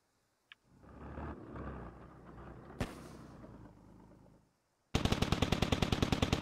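Machine gun fire from MT-LB armored vehicles in the video game Squad: a far-off rumble of shots with one sharp crack, then a loud, close, rapid burst of evenly spaced rounds at the end.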